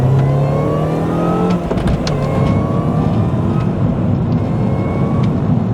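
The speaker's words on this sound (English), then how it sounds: "I'm not sure if you guys can hear that supercharger, but sounds so sick." Supercharged Mini Cooper S R53 engine revving near and loud, a steady droning note that rises and holds with a faint supercharger whine, running continuously without speech.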